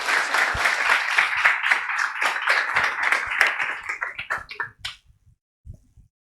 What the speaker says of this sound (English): please join us in welcoming with a big round of applause Mrs. Anushri Aurangabadkar.